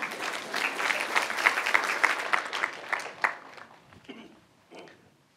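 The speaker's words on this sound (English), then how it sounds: "So please give him a big hand." An audience at a university lecture applauds in a steady round of clapping that thins out and fades, with a few scattered last claps near the end.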